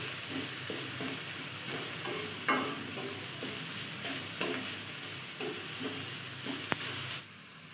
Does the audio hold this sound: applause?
no